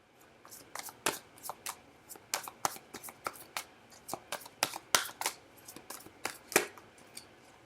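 Tarot cards are shuffled by hand close up, giving a quick, irregular series of crisp riffles and slaps that keep coming in bursts, with no talking over them.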